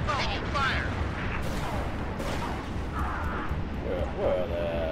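Incoming gunfire during a Halo Reach space-battle mission on Xbox 360, heard as a dense rumble of shots and booming impacts that runs continuously under excited talk between players.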